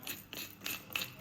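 Pepper grinder cranking peppercorns for a BBQ pulled pork rub, giving four short, close, gritty ratcheting bursts in a steady rhythm with no talking.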